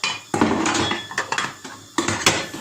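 A metal cooking pot handled in a home kitchen while making milk-based semolina halva, with clanks, scrapes and knocks of metal against metal and wood in irregular bursts, loud and close.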